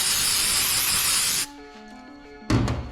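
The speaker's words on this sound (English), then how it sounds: "So we're gonna take and clean it off using the brake parts cleaner" Brake parts cleaner sprayed on a car part before painting, a loud close hiss that cuts off, a quiet pause, then a second spray burst.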